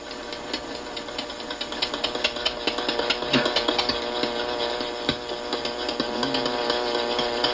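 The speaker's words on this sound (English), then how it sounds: "the friction caused by the fire stick in the groove produces the flame, which ignites the splinters" A wooden fire stick is rubbed back and forth in a wooden groove in the bush, a rapid rhythmic scraping and rasping that stays close and steady, with no talk.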